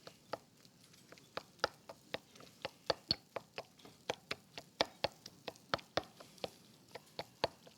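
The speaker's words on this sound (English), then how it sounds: "we're just going to kind of sort of mortar and pestle this, kind of break up the garlic a little bit" Garlic crushed with a mortar and pestle in olive oil: a steady run of sharp, close knocks and taps, roughly two to three per second, loud against a quiet kitchen background with no talking.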